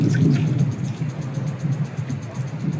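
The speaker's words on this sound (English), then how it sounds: "You hear the thunder?" A low, distant rumble of thunder rolls steadily in the background, with no talking.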